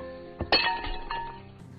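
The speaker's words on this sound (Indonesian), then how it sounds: "Bahkan dia menendang guci milik nenek hingga pecah." A ceramic jar is kicked and shatters, giving a sharp crack and then a scatter of clinking shards that fades quickly, all in a quiet room.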